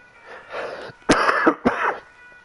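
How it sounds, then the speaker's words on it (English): A few harsh coughs in a short burst, close and loud, preceded by a rough throaty rasp. "I really am sorry for this cough, folks."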